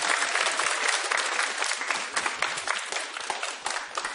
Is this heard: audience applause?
yes